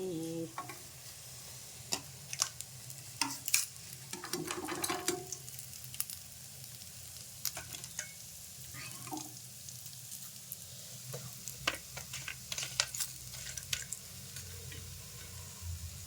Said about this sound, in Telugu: చేపల ఫ్రై